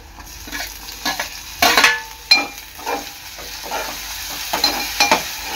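Onion and tomato fry in a pan for brinjal bharit, sizzling softly under intermittent stirring. A spatula scrapes and clatters with several sharp, close strikes against the pan.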